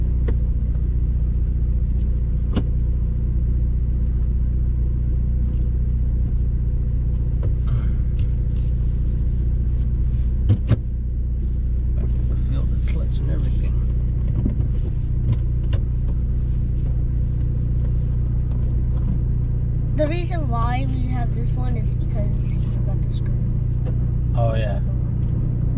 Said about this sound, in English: Stick shift, four door sedan. This is a turbo.